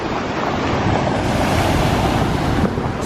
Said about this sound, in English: these waves really crash up on these rocks